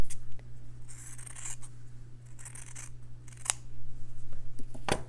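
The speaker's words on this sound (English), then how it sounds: "line it up and just cut it in half again" Scissors snip through strips of fabric laid together in two layers, a few distinct crisp cuts and soft rasping slides of the blades close up, with fabric rustling in between and no talking.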